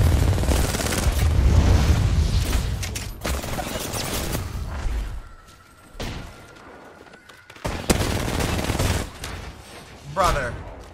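Heavy gunfire during a close-range shootout in a battle-royale shooter, with an R99 submachine gun in play: dense, sustained automatic bursts and booming shots, near and loud, easing briefly mid-way before resuming, while a voice talks over it.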